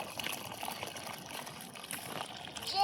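Palm toddy from a date palm is poured into a bucket, a short, steady splashing, trickling stream close by at moderate loudness, with no talking.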